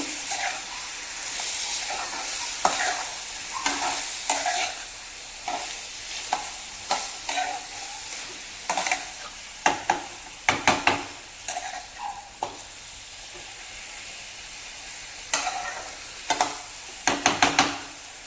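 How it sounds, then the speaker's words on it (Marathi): Liver frying in a pan with ginger paste is stirred, giving a steady sizzling hiss broken by repeated scraping stirs that come in quick bursts toward the end, close up, with no talking. "आता हे सगळं व्यवस्थित मिक्स करून घ्यायचं"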